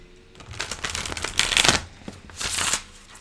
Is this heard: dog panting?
no